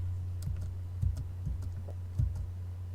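Calculator keys pressed to enter 2.5 into a graphing calculator table: a few soft, close plastic clicks spaced irregularly over a steady low electrical hum, with no talking.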